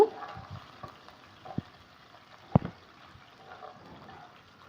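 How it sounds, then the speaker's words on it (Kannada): Green chillies frying in a pan for egg rice: a faint, low crackle with a few sharp spoon or pan clicks, quiet and close, no talk. "ಹಸಿಮೆಣ್ಸಿಕಾಯನ್ನು ಹಾಕೊಂಡು ಸ್ವಲ್ಪ ಹಾಕಿ ಫ್ರೈ ಮಾಡ್ಕೊಳ್ಳೋಣ"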